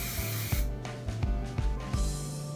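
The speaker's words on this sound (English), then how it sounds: "We're gonna add a little hairspray." Hairspray sprayed onto crimped beach-wave hair in several short hissing bursts of about half a second each, close and fairly loud, with brief pauses between them.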